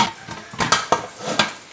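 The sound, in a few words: closing the pressure cooker lid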